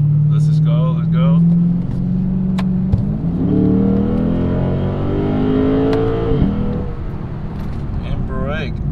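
Lexus RC F accelerating hard toward 65 mph during a brake bedding run, its engine note climbing through rising gear sweeps and dropping at a shift before pulling again, loud and steady throughout.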